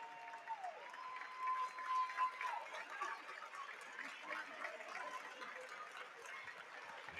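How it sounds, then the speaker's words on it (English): Crowd at a girls' basketball regional tournament game applauds a senior player fouling out, a sustained wash of clapping and cheering in a gym, with a whistle sounding near the start. "They're giving her the hugs and the claps"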